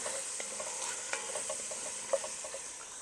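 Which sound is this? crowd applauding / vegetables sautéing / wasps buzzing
vegetables sautéing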